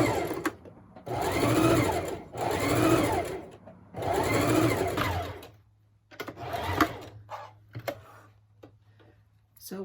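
Household sewing machine stitching stretchy knit fabric for a face mask, running in three steady bursts of rapid whirring stitches with short pauses between, followed by quieter handling and clicks.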